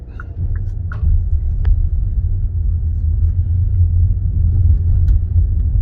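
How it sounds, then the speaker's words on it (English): A car's engine rumbles low and steady as it pulls away from a stop sign into traffic, the drone holding even throughout with a few light clicks at the start. "So we're going to come off the brake and pull into traffic."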